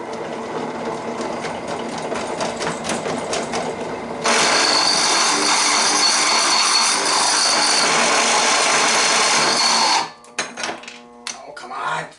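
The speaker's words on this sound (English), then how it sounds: "Cheap drill press." A cheap drill press bores a 9/16 bit into metal during a used 4x8 trailer repair, a steady loud whir running about six seconds amid shorter mechanical bursts, with a voice briefly around it.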